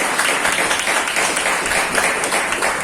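A graduation ceremony crowd applauds with continuous dense clapping, fairly loud and steady across the whole stretch, with no voice standing out.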